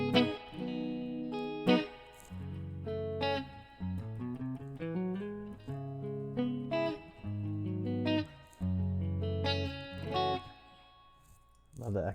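An electric guitar played through a Fender '65 Deluxe-style amp model sounds clean, ringing chords and picked notes at a steady pace, with a soft pause between phrases.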